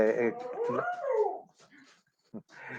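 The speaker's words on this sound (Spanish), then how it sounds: "esa es mi perrita que está diciéndome algo al respecto del horario" A small female dog whimpers and breaks into a wavering, howl-like whine close to the microphone, then gives a few short yips as the sound fades.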